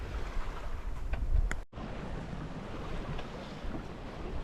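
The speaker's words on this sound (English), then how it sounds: "sailing along the coast of Spain." A sailboat under way off the coast of Spain on a Mediterranean passage: steady rushing wind and water noise with breaking waves along the hull, broad and close, with a brief dropout partway through and no voices.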